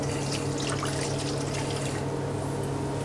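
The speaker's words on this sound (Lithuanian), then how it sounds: "tai tiesiog pilam pieną" Milk pours into a bowl in a continuous, fairly loud liquid stream over a low steady hum.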